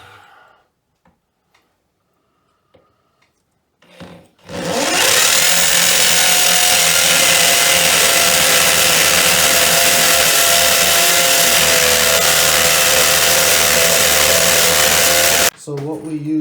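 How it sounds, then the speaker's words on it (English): A hammer drill with a 3/8 inch bit bores into a concrete basement foundation wall: after a few faint knocks and a brief start, a loud, steady pounding roar runs continuously for about eleven seconds, then stops. "what you're going to need for this is a hammer drill, and there's 2 bit sizes"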